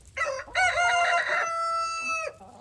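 A rooster crows once, loud and close, a long drawn-out call that holds steady before cutting off, with faint farmyard noise around it, on a one-acre homestead with about 40 chickens and goats.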